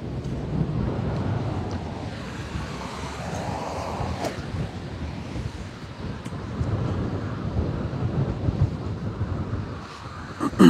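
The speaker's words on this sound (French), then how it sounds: "Allez, gros vent contre" Strong headwind gusts across an open golf course, a steady broadband rush and low rumble of wind buffeting the microphone for the whole stretch, with no talk.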